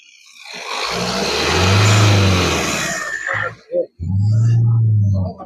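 A new Tata Nexon diesel car engine revs up from idle, swelling to a loud droning peak and easing back, then dropping briefly before a second rev rises again; close to the engine, with a voice heard briefly.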